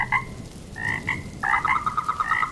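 A big golden frog croaks from a large mango tree in front of a house, giving repeated throaty calls in short bursts, some overlapping, at moderate volume.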